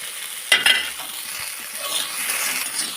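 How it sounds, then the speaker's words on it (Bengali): Vegetables frying with salt and ginger-green chili paste as they are stirred in a pan: a sharp scrape near the start, then a steady sizzling hiss that swells slightly toward the end. "ভালো করে একটু নাড়াচাড়া করে ভেজে নেব, কাঁচা গন্ধটা চলে যাওয়া পর্যন্ত"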